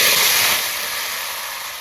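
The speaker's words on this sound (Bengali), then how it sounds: "এখন ভাজবো সেদ্ধ করা ডিম" Boiled eggs dropped into hot oil in a pan, a loud burst of bright hissing sizzle that gradually eases but keeps going, close up and alone.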